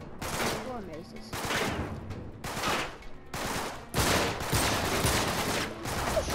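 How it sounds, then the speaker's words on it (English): Gunfire in the video game Uncharted: The Nathan Drake Collection comes as dense, repeated shots and bursts, loud and continuous, with voices talking over the action. "It took me four shots to kill one guy when I shot him."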